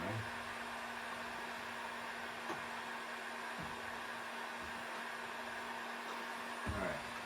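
A heat gun runs steadily with a continuous airy blowing roar and a faint steady hum, unbroken throughout while it warms up for a transfer port installation.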